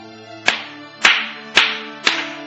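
A church congregation claps along to a hymn: four sharp, evenly spaced claps ring out over sustained, tuneful music, with no talking.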